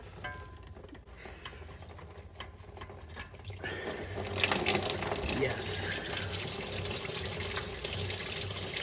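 Water, mostly coolant-free, drains out of a diesel truck after a screw is loosened with pliers in a shop; a steady splashing, rushing flow begins partway through and keeps pouring close by.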